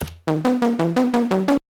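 Synth saw wave with noise-driven pitch modulation set to 24 semitones, leaping between random pitches in seven even steps of about a fifth of a second each, loud and alone, then cutting off sharply.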